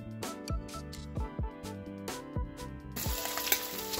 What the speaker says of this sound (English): let's go ahead and add those onions that we had, the surprise onions